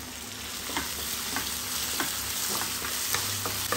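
Tomatoes sautéing in a pan for chicken curry: a constant, close sizzle with regular light stirring taps and scrapes, no voices.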